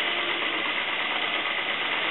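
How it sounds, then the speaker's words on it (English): A small model PMR engine runs on compressed air at about 10 psi, driving a PMR generator that powers an N-scale electric train, giving a continuous, even, close whirring hiss with no talking. "It's a PMR generator with a PMR engine running on air"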